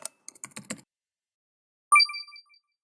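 Several quick keystrokes clatter on a computer keyboard, then a short electronic chime follows after a pause, in a quiet room.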